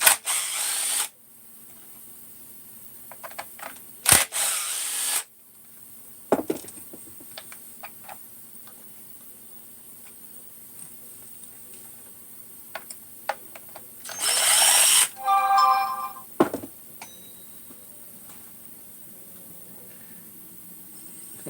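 A power drill bores into a casting in several short bursts during the dismantling of equipment, with a long whirring run midway and clicks and handling noises between bursts, and no voices.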